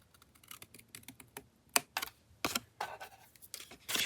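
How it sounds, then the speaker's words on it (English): Scissors make short, crisp snips as they trim paper for journal ephemera. The cuts come in quick, irregular bursts, close and quiet, with no voices. "I'm going to try cutting this one from this side."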